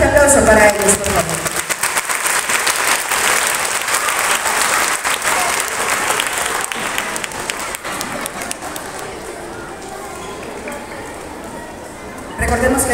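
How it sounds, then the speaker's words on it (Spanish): Sustained applause from a school audience at a primary-school cultural week, dense and steady for the full duration, swelling briefly again at the very end. "Un fuerte aplauso para ellos"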